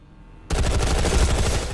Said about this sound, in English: Take some time to get comfortable with shooting.